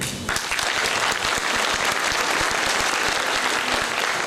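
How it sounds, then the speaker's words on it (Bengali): Dense, sustained applause from a theatre audience after a play, many hands clapping loudly and evenly for about four seconds without a break. "আমাদের নাটক কেমন হলো আমরা এর উত্তর আপনাদের করতালির মাধ্যমে জানতে চাই"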